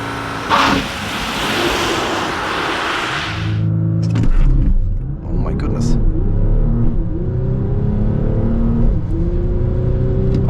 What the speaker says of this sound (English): we want to do a launch control and also do a pull through to get a kind of an idea how this car performs and not only sounds